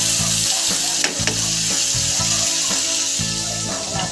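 Anchovies (dilis) frying in a pan, a loud, steady sizzle with crackling oil and occasional stirring or scraping throughout, close up, with no talk.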